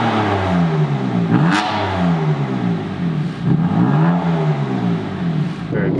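A BMW F80 M3 with an EcuTeK tune revs with an exhaust burble, the engine pitch rising and falling in smooth sweeps over a rumbling, crackly exhaust note, loud and close, with no talking.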